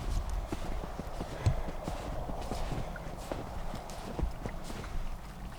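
Horses walk with steady clip-clopping hooves at a farm in winter, fairly quiet and close, with irregular footfalls over faint background noise.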